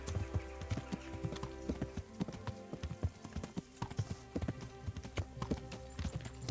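Horse hooves clip-clop in a steady, uneven rhythm of sharp knocks in Kingdom Come: Deliverance, close and fairly loud over a low, continuous droning background.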